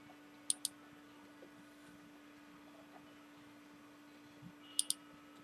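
Two quick pairs of sharp computer mouse clicks, one pair near the start and another near the end, faint and close over a steady fan hum, used while drawing a part in CNC design software.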